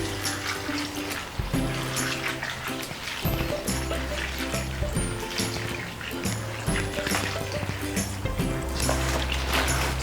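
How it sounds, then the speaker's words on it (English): Zobo (sorrel) leaves are washed in water, with continuous sloshing, swirling and trickling as the leaves are rubbed and stirred, near and fairly loud; rhythmic music plays underneath. "I'll be washing the Zobo leaf for the second time"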